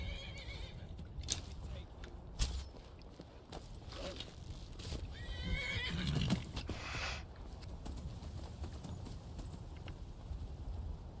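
A Skyrim horse clip-clops at a steady gait while letting out a loud neigh, with hoofbeats continuing over a busy game soundscape.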